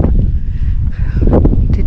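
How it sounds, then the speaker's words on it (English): Strong outdoor wind on a fishing trip near Burketown on the Gulf of Carpentaria, buffeting the microphone with loud, continuous low rumbling gusts and no voices. "It's really windy."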